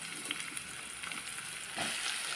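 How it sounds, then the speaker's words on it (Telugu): Ivy gourds fry with onions in a hot pan, giving a steady close sizzle with a brief louder surge of hissing as more food hits the oil and is stirred, with no talking. "దొండకాయలు వేసేద్దాం"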